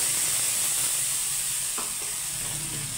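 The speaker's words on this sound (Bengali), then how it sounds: "আদাটা একটু হালকা করে নাড়াচাড়া করে নেব" Ginger paste sizzling steadily in a hot pan while being stirred, a continuous bright hiss with faint scraping, fairly quiet and without voices, during preparation of a Bengali doi paneer dish.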